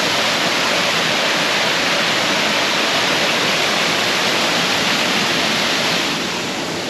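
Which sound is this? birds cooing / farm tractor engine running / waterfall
waterfall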